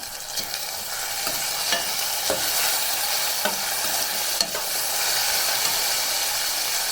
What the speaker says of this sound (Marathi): आता हा कांदा मस्त मऊसूर शिजलेला आहे त्याच्यामध्ये मी टॉमॅटो टाकून घेते